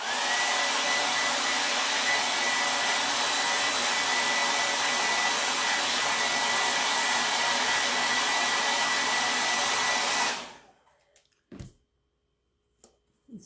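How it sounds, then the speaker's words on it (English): A hair dryer blows with a loud, steady whoosh for about ten seconds drying craft paste, then cuts off, leaving a few faint knocks and near silence. "just take the blow dryer to it."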